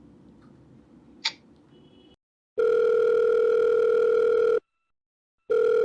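A telephone dial tone sounds while a call is being placed: a loud, steady tone that cuts off into silence and then returns, after a quieter stretch with one short click.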